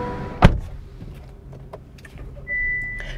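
A 2021 Honda Accord Sport's car door gives a single loud unlatching clunk near the start, followed by faint interior clicks and a soft rising electric whir toward the end.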